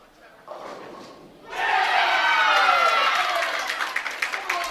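A crowd at a men's bowling tournament rises into loud, sustained cheering and clapping of encouragement, with an announcer talking over it near the start.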